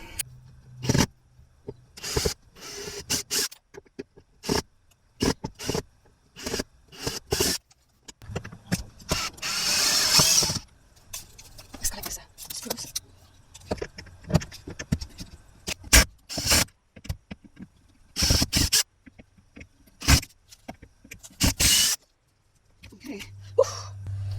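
Screws are backed out of the side panel of an RV jackknife sofa, giving a long run of clicking, ratcheting and scraping bursts in quick irregular sequence, close up, with a brief louder rasp midway.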